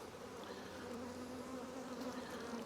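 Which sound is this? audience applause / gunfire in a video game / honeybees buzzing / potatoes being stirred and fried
honeybees buzzing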